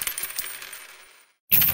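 Coins spill out in a game editor when a trigger fires: a quick metallic clinking burst that fades into near silence, then a second bright jingle of coins at the end.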